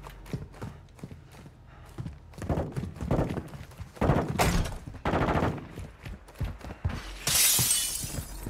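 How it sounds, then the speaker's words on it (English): Small-caliber gunfire in the video game Warzone 2: rapid, dense bursts of sharp shots crackle close and loud through most of the stretch, with a bright, hissing blast near the end. "Small caliber rounds here."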